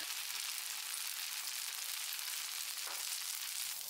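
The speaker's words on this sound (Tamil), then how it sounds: "பணியாரம் நல்லா மீடியம் ஃப்ளேமில் வேகட்டும்." Red sorghum paniyaram batter cooks in a paniyaram pan over a medium flame, making a faint, even frying hiss that runs without a break and has no talking over it.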